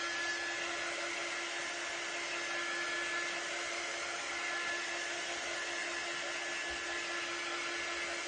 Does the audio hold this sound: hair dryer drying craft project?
yes